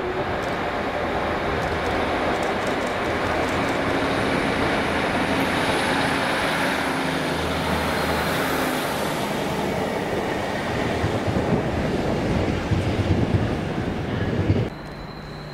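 An East Midlands Railway diesel passenger train, unit 156-470, rumbles past steadily and close at Derby, with broad rolling noise and a brief squeal of wheels, ending abruptly as it clears.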